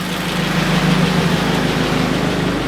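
A car engine idling right after a cold start in very cold weather, a steady low rumble with a constant hum that stays loud and even throughout.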